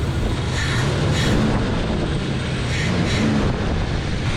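A 1973 Chevrolet C10 engine, full of rust and fitted with a carburetor and kinked throttle cable, roars loudly and steadily with a couple of rising revs, heard close with no talking.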